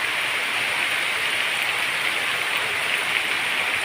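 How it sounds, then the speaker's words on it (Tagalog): Heavy rain pours steadily in a constant dense hiss on a rainy afternoon near mangroves and the sea, loud and unbroken with no voices. "Lakas ng ulan."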